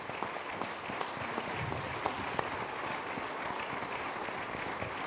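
A church congregation applauding, a steady, even wash of many hands clapping with occasional sharper claps, no voices over it.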